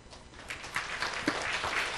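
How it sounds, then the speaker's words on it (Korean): A brief burst of scattered clapping from a small church congregation, moderately faint, with irregular claps building over two seconds. "하나님께 감사의 박수"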